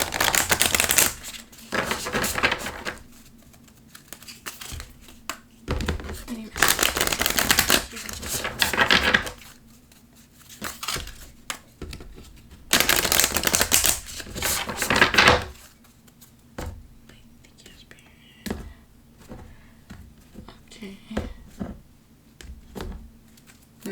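Moonology oracle cards are shuffled in several brisk bursts of dry, papery riffling, with quieter card handling and small taps in the pauses between them, recorded close up with no talking.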